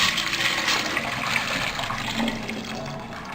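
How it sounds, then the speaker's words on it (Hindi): Water pours steadily into a cooking pot for chicken corn soup, a continuous splashing rush that slowly softens over a few seconds, with no talking. "यहाँ देगची में मैंने पानी डाल दिया"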